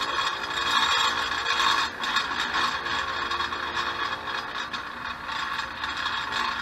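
Polishing wheel buffing an aluminum fork, a continuous scraping, whirring grind with a slight ratcheting texture, steady and close.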